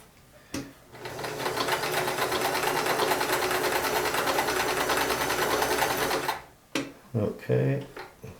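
A Sears Kenmore 158 series free arm sewing machine stitches in a steady, loud mechanical whir for several seconds, then stops, followed by short clicks and handling; a person talks briefly around the stitching.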